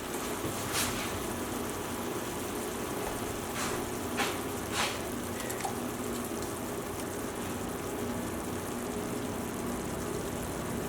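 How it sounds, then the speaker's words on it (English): A pot simmers on the stove while pan-roasted chicken with Dijon mushroom sauce and Israeli couscous is cooked, producing a soft, continuous bubbling hiss with a few brief clicks. "Boiling nicely, we're on a simmer,"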